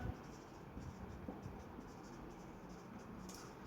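Chalk or marker scratching across a board during a physics lesson, a steady faint scraping texture with soft strokes over a low hum of room noise.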